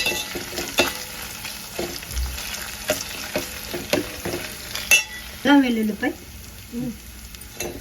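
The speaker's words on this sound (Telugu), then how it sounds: "అల్లం వెల్లుల్లిపై పచ్చివాసన పోయేంత వరకు వేయించాలి." Ginger garlic paste frying in a pan for a Nellore-style fish curry (chepala pulusu): a steady close sizzle broken by scraping stir strokes and a few louder spatters.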